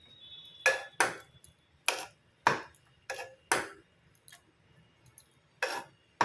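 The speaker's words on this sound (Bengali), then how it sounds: "এটাকে আমি একটু ম্যাশার দিয়ে রাফলি ম্যাশ করে নেব।" Boiled dal roughly mashed with a masher in a pot, about ten sharp separate knocks at an uneven pace, close and clear against a quiet background.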